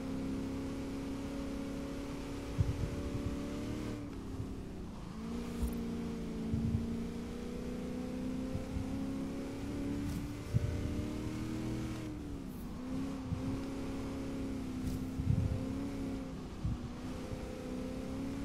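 A car in Forza Horizon 3 drives around a Hot Wheels track with a steady, fairly quiet engine drone, occasional shifts in pitch and small bumps, and no talking.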